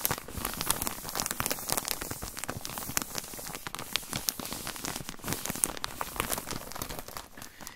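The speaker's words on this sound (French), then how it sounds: "ça fait du bien quand il pleut comme ça" Dense, crackling patter of rain hitting a nearby surface, steady throughout with sharp close drips.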